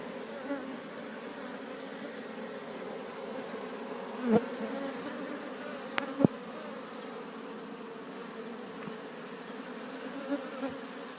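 Honey bees swarm around a disturbed honeycomb, a constant droning hum with a few brief clicks and knocks against it, no speech.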